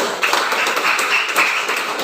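A classroom of students claps their hands together during an icebreaker, a brisk, continuous patter of close claps with small bursts of emphasis.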